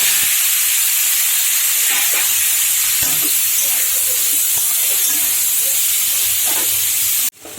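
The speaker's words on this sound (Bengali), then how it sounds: "এবারে আমি ওই পটল ভাজার তেলে ভালো করে আমি একটু ভেজে নেব" Boiled soybean chunks frying in oil left from frying pointed gourd, a loud continuous hissing sizzle filling the whole stretch, with faint utensil knocks beneath, cutting off abruptly at the end.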